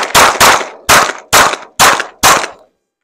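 Six sharp, loud pistol shots from a timed shooting drill, fired in an uneven cadence of two quick pairs and two spaced single shots, each cracking hard and decaying briefly, with no talking.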